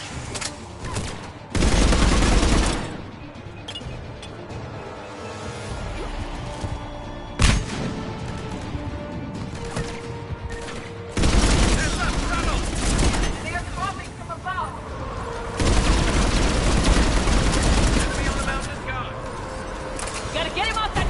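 Bursts of gunfire rattle through a Mass Effect 3 video game battle, loud volleys coming and going in waves amid booms and a steady roar, with voices shouting over the combat.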